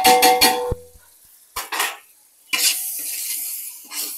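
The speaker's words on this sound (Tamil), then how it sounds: "இது கூட நல்லா டீப்பாக ஃப்ரை பண்ணிக்கணும்." Biryani masala gravy with red chilli, cumin and coriander powders frying in a pan, loud sizzling bursts broken by gaps, with a utensil stirring and scraping against the metal.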